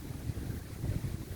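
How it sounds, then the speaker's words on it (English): Wind from a passing cyclone buffets the microphone over a rainforest-style garden, a steady low rumbling roar with gusty surges, no voices. "see how windy it is? So there's actually a cyclone coming through here."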